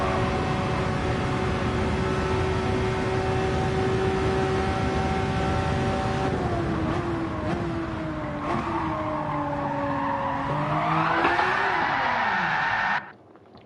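A car in Gran Turismo 7 fishtails, its engine holding a steady loud drone before the pitch dips and wavers through a skid with tire noise, then rises again and cuts off abruptly at the end.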